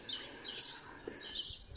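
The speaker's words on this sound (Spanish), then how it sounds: "El canto de los pajaritos como mucho." Small birds chirp and tweet in short, high bursts around a deserted parking lot behind a shopping centre, faint and fairly distant, with no traffic and no talk.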